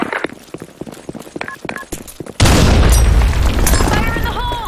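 A grenade explodes in Counter-Strike on the Sand Storm II map: scattered gunfire and clatter give way to a sudden loud, sustained boom with a rumbling low roar that fades slowly, with faint game sounds above it.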